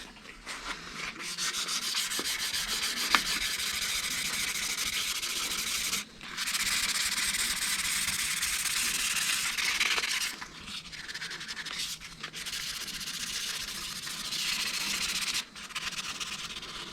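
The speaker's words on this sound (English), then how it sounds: "Now, need a little bit finer sandpaper. Use a piece of 1200." Hand sanding of a Harley Benton guitar's finish with fine 1200-grit sandpaper, a close, steady hissing rub in long strokes broken by a few short pauses.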